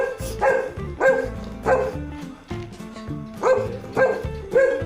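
A dog barks repeatedly at close range, a series of loud, evenly spaced barks with short gaps between them and no talk.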